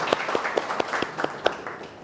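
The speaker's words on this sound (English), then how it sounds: "That number itself calls for a round of applause." Audience applause at a book event, a brief burst of scattered, uneven hand claps with distinct individual claps over a soft crowd wash.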